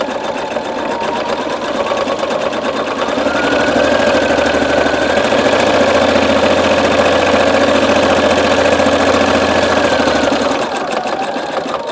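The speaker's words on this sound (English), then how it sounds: "the needle is just going from side to side, creating this wavy line" Domestic sewing machine stitching a zigzag line along the edge of a round fabric placemat, a steady whirring motor hum with rapid needle clatter that speeds up and holds for several seconds before stopping, loud and close with no talking.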